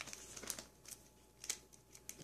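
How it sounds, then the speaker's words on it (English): Plastic bags from a Brew Crafters board game box are handled close up, giving faint, scattered crinkles in a few brief bursts. "The publisher put in a whole bunch of plastic bags."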